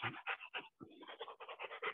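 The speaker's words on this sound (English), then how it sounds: "That's your new doggy, ain't it?" A Rottweiler pants rapidly and close up, rhythmic breathy huffs running in quick bursts with one brief pause.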